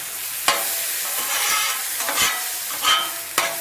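Diced potato hashbrowns sizzle on a Blackstone griddle while a metal spatula scrapes and stirs across the hot steel in four or five sharp, close strokes over the constant frying hiss.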